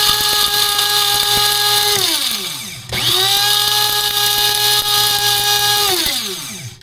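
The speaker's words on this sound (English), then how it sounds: "This is just a little grinder here, a little cheap grinder." A small cheap electric grinder whirs loudly as it grinds dehydrated ghost peppers and habaneros, running in two bursts that each spin up to a steady high whine and then wind down.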